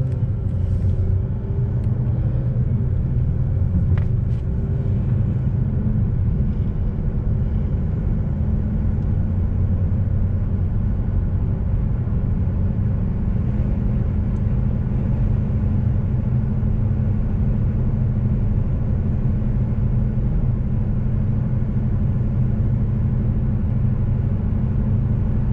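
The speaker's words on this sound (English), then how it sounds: "Let's take our first spin." A stock Chevrolet Cruze on a test drive gives a steady, loud blend of low engine drone and road rumble that runs unbroken throughout, with no one talking.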